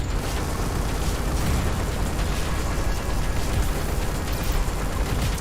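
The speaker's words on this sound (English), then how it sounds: "I don't want missiles exploding in my face." Missiles blowing up in the space combat game Everspace 2, a dense, steady barrage of booming blasts and crackling bursts that holds loud and close for the whole stretch, with no voices.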